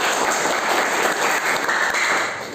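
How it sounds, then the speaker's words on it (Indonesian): Civil engineering students in a classroom lecture break into a short, loud round of clapping, dense and even for a couple of seconds before tapering off. "tepuk tangan buat kita semua"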